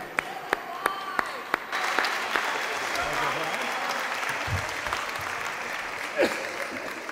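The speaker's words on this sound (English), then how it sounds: "we'll give you a round of applause" At a living legends honors event, a few separate claps come first, then the audience breaks into sustained applause that swells into a loud, steady wash with a faint voice underneath.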